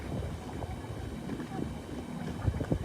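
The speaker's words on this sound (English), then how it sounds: "the boats are literally just coming right across in front of me." Boats motoring past close by on the River Deben at Woodbridge, Suffolk, a low rumbling drone with wind buffeting the microphone in rainy, gusty weather.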